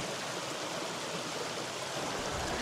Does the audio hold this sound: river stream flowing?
yes